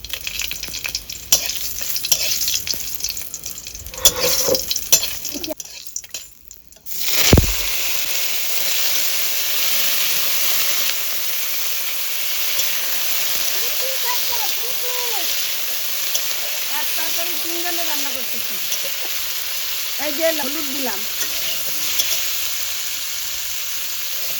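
Mustard seeds and dried chili frying in hot oil, a loud steady hiss and crackle that surges after a short pause and then holds, with a voice speaking briefly over it.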